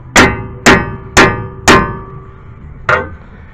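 A hammer strikes the front strut and steering knuckle of a 2004-2011 Mazda 3 during strut replacement, landing four sharp, ringing metallic blows at an even pace, then a fifth after a short pause, loud and close.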